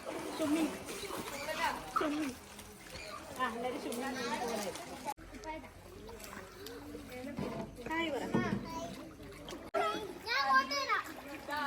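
Children's voices and chatter over intermittent splashing as a toddler plays in pond water at Cheemeni, close by, with several splashes breaking through the talk.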